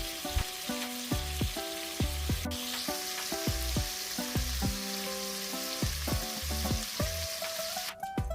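Meat for Texas-style chili sears in a hot pan with a bright, constant sizzle, while repeated tonal metallic scrapes come up close as the pieces are moved around.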